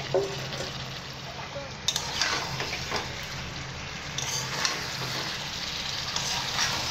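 Fried jackfruit pieces are stirred and sautéed in a pan for a jackfruit biryani, a steady gentle sizzle with occasional scraping and clinking of a spoon, close and fairly quiet.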